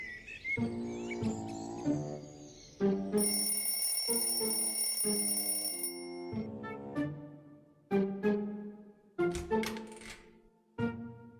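A bright, steady electronic alarm rings for a few seconds over cheerful music, with chirpy tones and sharp accents throughout.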